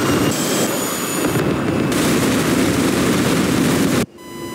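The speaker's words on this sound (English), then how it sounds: "Did you just hit them with a cluster munition?" Cluster munitions bursting in the DCS combat flight simulator make a dense, loud crackling roar of overlapping blasts that holds steady for about four seconds and then cuts off abruptly.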